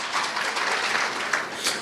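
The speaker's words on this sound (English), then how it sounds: "A round of applause" An audience at an awards ceremony applauds Adele with dense, steady clapping that fills the whole stretch, close and fairly loud, with no voices standing out.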